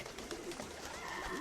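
A pigeon in the Jazzpunk video game coos softly, a short low warbling burble, quiet and alone.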